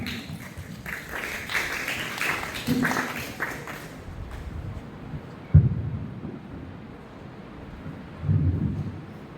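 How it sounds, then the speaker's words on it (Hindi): An audience applauds to welcome a student contestant at an inter-school Hindi poem recitation competition, a dense, boomy wash of clapping in a hall that fades after about four seconds, leaving a few scattered thumps. "तो आइए जोरदार तालियों से इनका स्वागत करें।"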